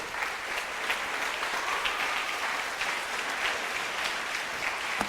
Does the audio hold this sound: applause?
yes